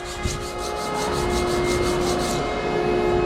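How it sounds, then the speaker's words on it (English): Steady hand sanding of a wooden picture frame, an even rasping scrub with rhythmic back-and-forth strokes, close and continuous with no talk. "Let's finish sanding."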